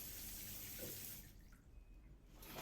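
A shower runs in a hotel bathroom, a soft, steady hiss of falling water that thins out in the middle and swells again at the end, heard alone.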